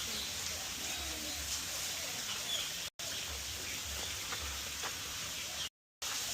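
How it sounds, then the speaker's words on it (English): Birds call faintly from the forest of a Bali bird park. Scattered small chirps sit within a steady hiss of ambient noise, with no talking. "you can hear all the birds here"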